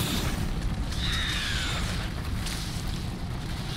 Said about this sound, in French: Oula, ça explose